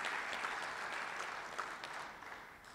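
An audience at a Rotary Club of Cincinnati meeting gives a steady round of clapping that holds for a few seconds and then tapers slightly, heard a little distant in the room without speech.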